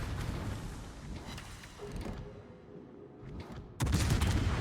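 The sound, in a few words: naval gunfire in the video game World of Warships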